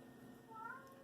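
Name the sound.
cat meowing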